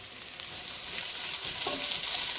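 Mushrooms frying in a pan hiss and sizzle in a steady, close crackle that grows slightly louder as they settle into the hot fat, with no voices.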